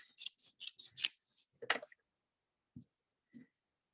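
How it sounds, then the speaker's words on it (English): Scissors snipping off a piece of beading backing fabric: a quick run of about six crisp snips, then a few isolated soft clicks in near silence. "I'll just cut this part off"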